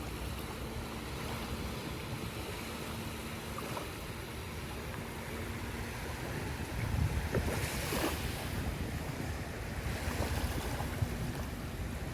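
Ocean waves wash onto a sandy beach near the 100 Islands, a steady broadband surf with a louder swell of breaking water midway, mixed with wind buffeting the microphone.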